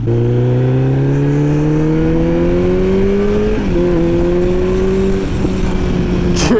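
Big sport motorcycle, a step up from a ZX10R, pulling hard through second gear up close, its engine note climbing steadily in pitch, dipping briefly at a shift near the end and then revving on.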